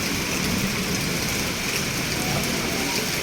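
Heavy rain pours steadily in hill country near Bhimashankar, a dense, unbroken hiss that stays loud and even from start to finish with no voices.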